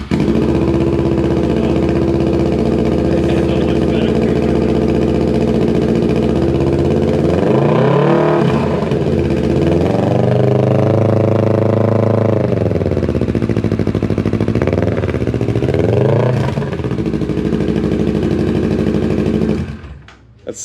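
A Kawasaki Ninja 650 motorcycle fitted with a Delkevic exhaust runs loud and close, its steady idle broken by several rising and falling revs before it shuts off abruptly at the end.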